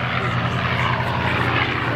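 A WWII warbird such as a P-51, P-40, Spitfire or F4U Corsair on an observation pass at an airshow, a steady loud propeller-engine drone throughout, with a voice speaking over it.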